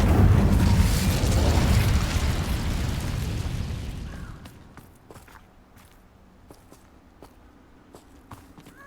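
An Incendio fire spell blasts in Hogwarts Legacy with a loud, roaring burst of flame that fades out over about four seconds, followed by quiet footsteps and small clicks.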